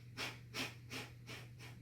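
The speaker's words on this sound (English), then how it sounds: "Take one deep breath in." Slow, deep breathing during a yoga ab workout, with five distinct breath cycles close and quiet over a steady low hum, no talking.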